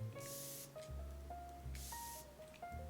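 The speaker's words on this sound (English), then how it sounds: "I'm gonna spray it on right now because it's so nice" Two long, steady hissing bursts from a facial mist spray bottle held down the whole time, close and fairly loud, with a soft gap of rustling between them.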